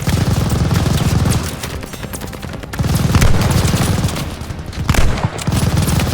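Loud, dense gunfire from Call of Duty: Vanguard rattles almost continuously, with rapid machine-gun bursts and heavy shots layered together and brief dips between volleys.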